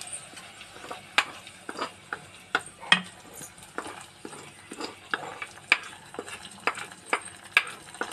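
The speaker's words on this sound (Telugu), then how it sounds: "సో ఇప్పుడు పప్పులో వేసేసుకుంటున్నాం." Tempering poured into cooked dal and stirred in a pot, heard as a steady series of close, sharp scraping and clinking stirring strokes over a soft sizzle, with no talk.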